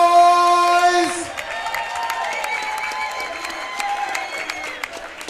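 A boxing crowd in Pomona, California cheers and applauds loudly for the main event, a dense continuous roar of clapping, while a ring announcer's sustained voice rings over it at the start.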